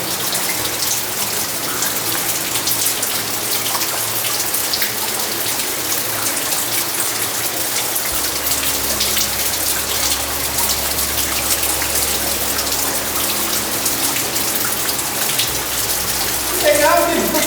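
Inside a limestone cave, water drips and flows in a steady, dense rush of splashing and trickling that fills the space, close and fairly loud, with a faint low hum partway through.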